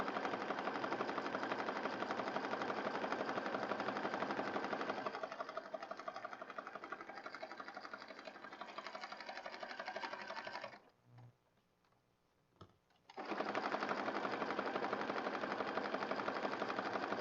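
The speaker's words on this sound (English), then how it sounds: "I'm mesmerized at my own design of stitching." A sewing machine stitching a paper journal card, a steady close whirring buzz that slows briefly, stops for about two seconds and then resumes at full speed.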